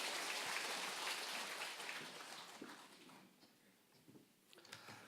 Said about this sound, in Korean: 우리 하나님께 큰 박수 영광 돌리겠습니다